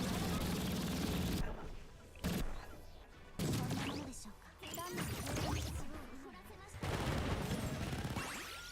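Bursts of gunfire in a Blue Archive battle crackle in several separated volleys with short gaps between them, mixed with game effects and a speaking voice over the top.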